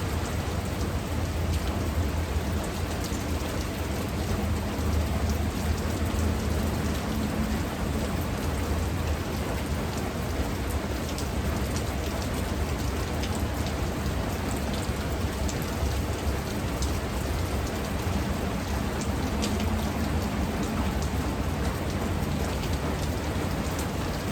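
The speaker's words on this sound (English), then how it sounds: "it's been raining. It's been coming down kind of thing. And it's still coming down now." Steady, dense rain drumming on a metal roof, continuous and unbroken throughout, with no voices.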